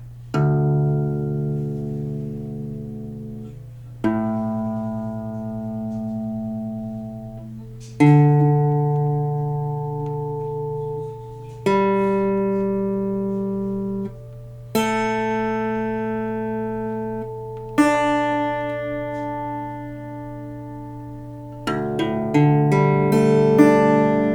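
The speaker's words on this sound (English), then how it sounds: "I'll just play each string here slowly so you can hear what that sounds like" Six guitar strings in DADGAD tuning plucked one at a time, low to high, each left ringing for a few seconds before the next, ending with a quick strum across all of them.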